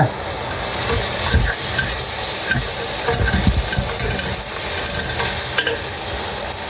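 Turkey biryani base with coriander leaves added and sautéing in the pot, a steady frying sizzle with repeated stirring scrapes throughout, close and fairly loud, no talk.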